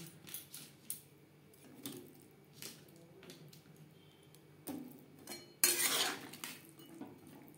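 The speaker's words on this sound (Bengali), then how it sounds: "জল গরম হয়ে গেছে, এবার দিয়ে দেব ফুলকপি" Cauliflower florets go into a pot of hot water for cholar dal, with soft clinks of metal utensils and pot, then a short, louder watery splash-like burst near the end. No talk.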